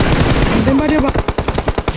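Rapid machine-gun fire in a mobile battle-royale shooter game, a loud close burst of evenly spaced shots about two seconds long, with a brief voice-like tone underneath at the start.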